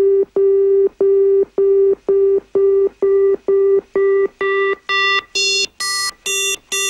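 An FM synth tone repeats in evenly spaced short notes, starting as a plain beep and growing brighter and buzzier as the modulator level rises, alone and clear.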